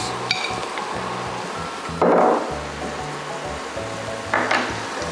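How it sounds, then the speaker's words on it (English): Chopped mushrooms drop into a pan with butter and garlic, giving two brief bursts of sizzling hiss over a low humming background with faint clinks of utensils. "Now we'll add some chopped mushrooms."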